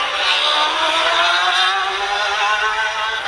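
Davy Todd's racing motorcycle passes close on the Macau Guia Circuit, a loud, high, sustained engine scream at high revs whose pitch shifts slightly as it goes by, with no talk over it.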